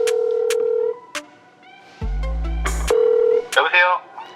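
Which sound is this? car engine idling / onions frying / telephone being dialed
telephone being dialed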